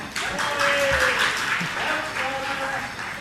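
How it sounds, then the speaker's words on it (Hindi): Audience clapping at a Jain sermon, a broad, steady wash of applause lasting a few seconds with voices mixed in. "अब नहीं बजाओगे ताली?"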